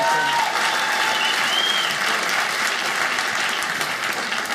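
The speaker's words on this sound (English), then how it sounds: "Give Jason a big round of applause." A stand-up comedy audience applauds a man named Jason, a dense, continuous wash of clapping from many hands with a few faint whistles, loud and sustained throughout.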